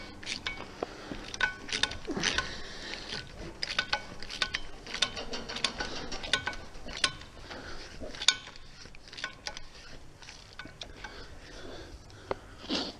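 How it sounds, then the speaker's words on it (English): A ratchet wrench clicks in rapid, uneven bursts while a bolt is tightened on a hay baler, with small metallic clinks of tools between the ratcheting; close and moderately quiet. "Trying to do this bolt up, isn't we?"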